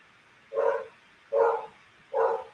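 Dogs bark three times at a steady, evenly spaced pace, each bark short and moderately loud with quiet gaps between.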